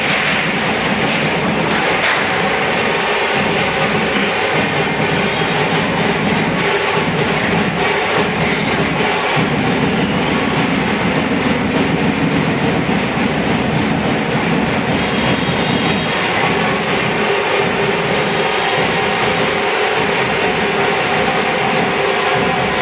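A train rolls past nearby, a loud, steady rumble of wheels and rail clatter sustained for over twenty seconds with no voices.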